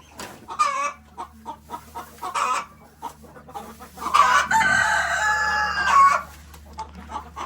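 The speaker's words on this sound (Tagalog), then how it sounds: "Yan yung mga manok," Chickens at a construction project site cluck in scattered bursts, then a rooster crows loudly in a long drawn-out call near the middle, with hens fussing around it close by.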